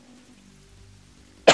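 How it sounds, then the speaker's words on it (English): After near silence, a single sharp cough bursts out close by at the very end. "I have a little bit of a cough."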